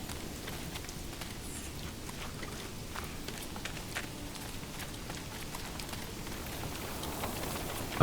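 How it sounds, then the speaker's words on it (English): Steady rain falling in the medieval strategy game Manor Lords, a soft, even hiss of drops with faint patter and occasional footstep-like taps, moderately quiet and continuous. "It is raining, but"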